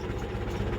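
The old Perkins diesel in a Massey Ferguson 65 tractor idles nearby, a steady low rumbling throb with no pauses over a brief moment.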